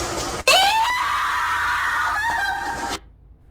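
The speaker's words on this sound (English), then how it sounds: "As the reporter screams" A news reporter screams loudly and continuously for about two and a half seconds, raw and strained, then cuts off abruptly into quiet.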